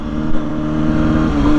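A 2006 Kawasaki Ninja ZX-6R 636 motorcycle in first gear gives a short throttle blip, a loud, close engine buzz that swells slightly near the end.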